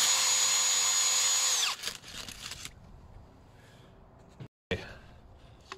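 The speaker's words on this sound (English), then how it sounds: "Time to wire brush this off" A power tool driving a wire brush against corrosion on a 2008-09 Jeep Grand Cherokee 3.0 CRD diesel engine control module, a loud harsh whine for under two seconds, then quieter scraping and handling noises.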